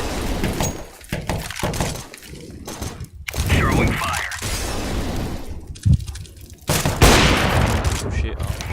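Gunfire in a ranked online shooter match comes as loud, close bursts and single shots, with impacts and breaking sounds, mixed under excited talk from players.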